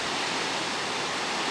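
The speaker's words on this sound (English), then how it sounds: "look at that beautiful waterfall" A waterfall in New Zealand bush roars as a constant, even wash of rushing water, close and steady with no breaks and no voices.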